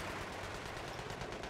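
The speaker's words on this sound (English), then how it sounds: "These two tanks are shooting each other." Tank cannon and machine-gun fire from two tanks shooting at each other in Battlefield 3, a dense, steady barrage of distant gunfire lasting about a second and a half with no talk.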